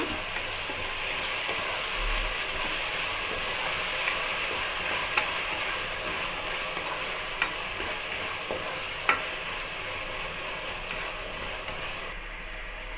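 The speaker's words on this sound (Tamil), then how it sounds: "வெங்காயம் தக்காளி வந்து நல்லா வதங்கட்டங்க" Onions and tomatoes fry in a pan for a Seeraga samba chicken biryani, making a continuous close sizzle broken by occasional sharp clicks of a spoon or spatula against the pan, with no talking.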